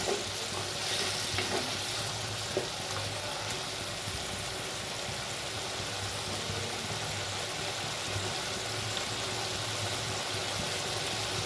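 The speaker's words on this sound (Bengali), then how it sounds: "সর্ষে পোস্তটা আমি একটু কষিয়ে নেবো ভালো করে" Mustard and poppy seed paste being fried and stirred in a pan, a constant close sizzle with occasional scraping clicks of the spoon over about eleven seconds, with no talking.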